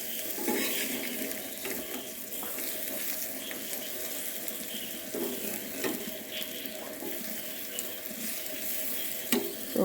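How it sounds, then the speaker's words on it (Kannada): Dried fish frying in a pan, giving a steady, close crackling sizzle throughout with occasional small pops and scraping stirs. "ಒಣಮೇನು ಏನಿದೆ ನೋಡಿ, ಅದನ್ನು ಇಲ್ಲಿ ಫ್ರೈ ಮಾಡ್ತಾಯಿದ್ದೇನೆ"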